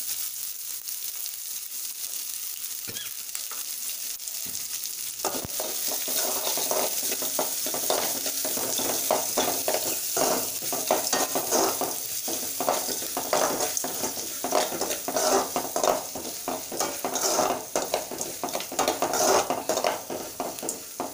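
A handful of large onions with green chillies sautéing in a pan after mustard seeds have popped, quiet at first, then a steady close sizzle with frequent scraping and clinking stirs.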